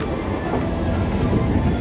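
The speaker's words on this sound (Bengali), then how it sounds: "সামনে আমাদের ইঞ্জিন নিয়ে চলেছে WP4 আজকে আমাদের ট্রেনকে হল করে" A passenger train on the Howrah to Ranchi route, hauled by a WP4 locomotive, rumbles steadily in a dense, continuous roar of wheels and carriages heard from on board.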